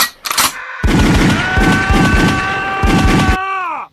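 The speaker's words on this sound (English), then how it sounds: "The shotguns went off" Shotguns firing in a radio drama, a loud close blast followed by a rapid run of heavy repeated shots over a sustained ringing tone that slides down as it fades.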